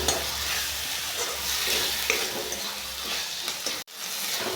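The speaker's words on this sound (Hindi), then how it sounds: "अब ये डालते हैं टमाटर। इसको भी थोड़ा सा भूंजने देंगे" Tomatoes frying in a pan for a Jharkhand-style egg curry, giving a steady, close sizzle with light stirring throughout and a brief dropout near the end.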